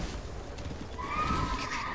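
A horse neighs in Elden Ring combat against a mounted enemy, a clear rising whinny over a low rumble of hooves and battle noise.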